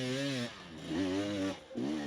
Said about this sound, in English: you hear the motorcycle scrape up against the concrete